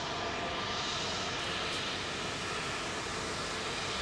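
Airliner roaring steadily on Heathrow's runway 27L, a loud, broad engine rush that holds for several seconds without letting up.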